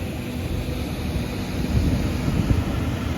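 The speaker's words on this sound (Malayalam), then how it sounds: "ഇതിങ്ങനെ കാറ്റടിച്ചുകൊണ്ടേ ഇരിക്കുക കറണ്ട് ഉപയോഗിച്ച്." An electric air blower runs nonstop to keep inflatable bouncy rides pumped up at a 2024 festival in Kattappana, giving a steady, loud broadband roar with no pauses.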